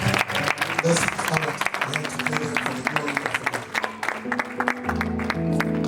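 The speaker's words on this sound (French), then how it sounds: "Acclamons pour nous." Applause from a church congregation after a sermon, a steady clatter of many hands lasting the whole stretch, with music and voices mixed underneath.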